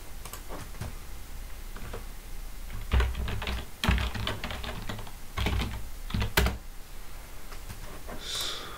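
A computer keyboard is typed on in irregular bursts of close, crisp clicks with short pauses between them, heard alone without speech.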